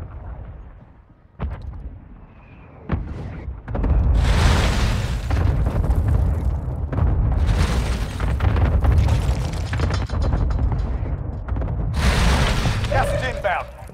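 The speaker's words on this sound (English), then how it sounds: "Mortar strike on the way!" Loud, heavy booms of a mortar strike in Call of Duty Warzone Mobile, several blasts rolling into sustained rumbling explosions over about fourteen seconds, with an in-game voice alert heard as well.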